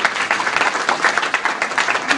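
Audience applause at an international keynote lecture on Latin American psychology, a dense steady clatter of many hands clapping together for about two seconds, loud and close, with no talk over it.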